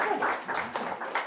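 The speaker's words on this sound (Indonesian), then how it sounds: "Tepuk tangan dulu buat Eyang Mariam." Audience at a team leader meeting clapping for an elderly woman invited forward, a short patter of many hands at moderate volume, brief and unaccompanied by talk.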